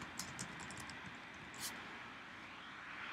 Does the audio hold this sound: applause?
no